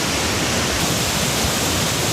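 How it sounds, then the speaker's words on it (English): A steady, dense roar of falling water at Tumpak Sewu waterfall in East Java, Indonesia, loud and unbroken throughout, like standing close to a waterfall. "They're gonna enjoy the waterfall now."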